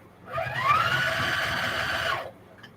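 A sewing machine runs one short, steady burst of stitching on fabric for a lunch box, with a rising then level whir that stops abruptly, heard alone and fairly quiet.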